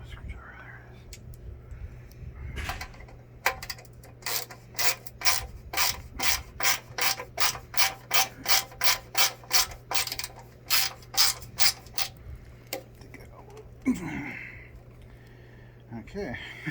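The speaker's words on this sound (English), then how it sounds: "Screwdriver, there it is." A handheld screwdriver drives screws during assembly of a Jack A5E sewing machine, giving a long run of steady, evenly spaced ratcheting clicks up close, with quiet rubbing and faint talk before and after.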